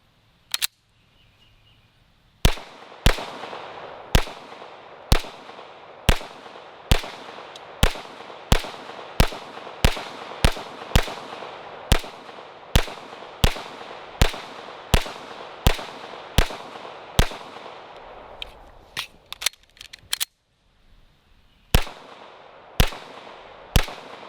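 Pistol shots from an STI 2011 Combat Master fired at an outdoor range, a long series of sharp loud cracks at a steady pace, with a brief pause near the end before a few more shots.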